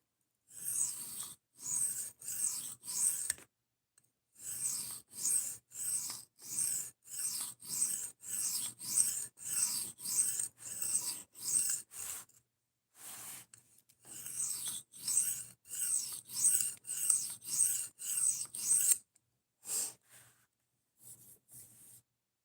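An Esee Izula knife blade drawn repeatedly across a sharpening stone, making quick, close rasping strokes in rhythmic bursts separated by brief pauses, with no talking.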